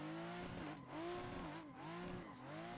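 A car drifts through a clutch kick, its engine revving in waves while the tires squeal loudly and continuously, the pitch dipping and climbing again as the slide is held.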